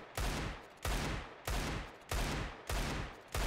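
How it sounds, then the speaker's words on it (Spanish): Five loud Desert Eagle pistol shots from the game CS2, evenly spaced about every 0.6 seconds, each a sharp close crack with a short decaying tail and no talk. "disparo, le doy a la F y vuelvo a disparar justo cuando va a llegar arriba"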